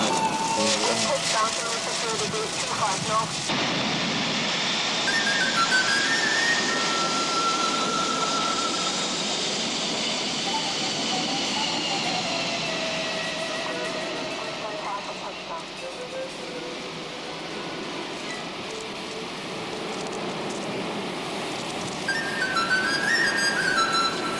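Aircraft at Hong Kong's Kai Tak Airport during a June 1993 typhoon under signal No. 8, heard as a steady broadband engine roar mixed with storm noise that carries through the whole stretch, with someone talking over it.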